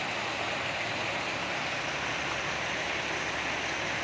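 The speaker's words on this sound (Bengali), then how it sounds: "অজোরে বৃষ্টি হচ্ছে, ঝুম বৃষ্টি" Heavy monsoon rain pours down in a steady, dense hiss, with no distinct drops or pauses and no voices.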